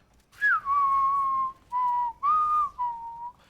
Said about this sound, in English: Hopefully that came through the mic as well as I did whistle it.